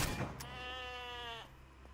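A goat in the video game Sker Ritual lets out a single drawn-out, wavering bleat lasting about a second, clear and close against a low game ambience.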